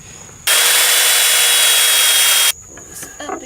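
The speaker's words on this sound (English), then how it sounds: "it's time to go ahead and drill a hole for what I'm going to call the" A drill bores a hole through wood for a keeper pin on a sofa bed frame, one steady high whine lasting about two seconds, close and loud, then stopping abruptly into quiet handling noise.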